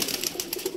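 A pigeon arriving back at its loft gives a short, near burst of soft fluttering and cooing, heard alone without talk.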